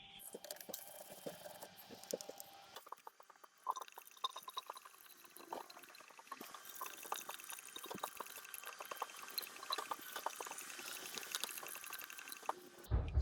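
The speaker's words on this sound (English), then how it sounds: "just keep pouring the coolant in there until we get a steady flow of coolant coming out of the bleed opening here" Coolant poured into the cooling system of a BMW E87 130i, a faint, close trickle and splash with intermittent drips and gurgles running throughout, under quiet surroundings.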